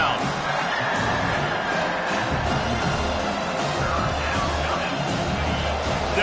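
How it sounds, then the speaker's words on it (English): A roaring football stadium crowd at an Ohio State game cheers loudly for the defense on third down, a dense continuous wall of noise with whoops and shouts, and a commentator's voice running underneath. "Decibels rising as the crowd gets behind this defense on 3rd down."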